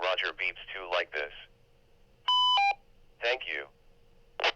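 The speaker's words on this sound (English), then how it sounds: "And you can also add Roger Beeps too like this." Speech over a handheld GMRS/ham radio, then a short two-tone electronic roger beep at the end of the transmission, followed by more talking.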